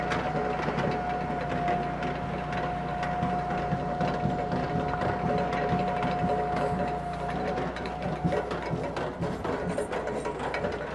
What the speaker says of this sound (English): I'll start the splitter, bring it home, hit it again.